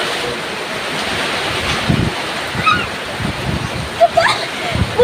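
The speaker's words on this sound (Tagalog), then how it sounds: "bumabagsak sa akin yung malakas na ulan" Heavy rain pours down on a person outdoors, a dense, close hissing roar whipped by gusty wind, with splashy bursts of water striking nearby.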